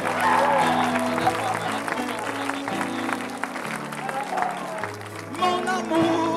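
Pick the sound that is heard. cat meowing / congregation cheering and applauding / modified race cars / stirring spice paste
congregation cheering and applauding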